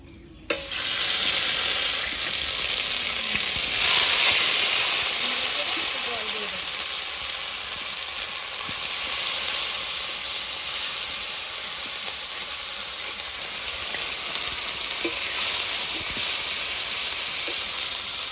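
Onion, cumin, ginger-garlic and chilli pastes fry in hot oil with a loud, steady sizzle that fills the whole stretch, with a few faint stirring clinks underneath.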